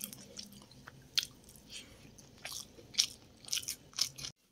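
Someone eating chicken with rice, eggplant mash and raw onion, giving close, quiet bites and chewing with several sharper crunchy clicks spread through the meal, and no talking.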